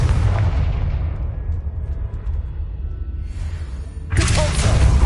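Confringo blasting spell cast in Hogwarts Legacy, a heavy booming explosion with a low rumbling tail that fades over a few seconds before a second sharp burst erupts loudly near the end.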